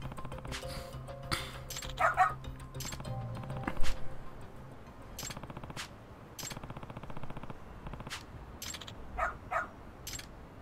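A dog barks in the Lost Judgment video game, a few sharp barks breaking through dense game sound effects with rapid rattling and gunfire-like bursts, fairly loud and spread across the scene.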